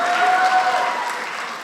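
Audience clapping at a Nepali political gathering, a dense, steady burst of applause close by that holds strong for about two seconds and eases slightly toward the end, with no voices over it.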